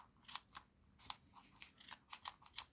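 Scissors snipping open yarn tassel loops, a quick series of small sharp cuts in an uneven rhythm, close up and quiet.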